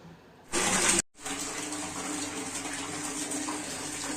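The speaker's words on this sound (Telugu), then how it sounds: "సోలార్ మొత్తం బిగించిన తర్వాత హాట్ వాటర్ అయితే కిందికి వచ్చేసాయి" Hot water from a newly fitted solar water heater gushes out of a tap in a steady, hissing stream. A short louder burst comes first, then a brief break, then a continuous even flow with no voices.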